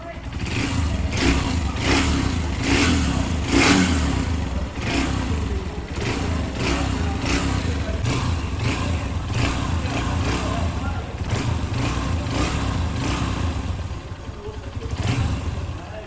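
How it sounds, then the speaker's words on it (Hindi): A Honda CG 150 motorcycle engine runs close by with a loud, steady throb and repeated rhythmic revs, and a voice speaks over it at times. "अब हम इसके इंजन का साउंड चेक कर लेते हैं"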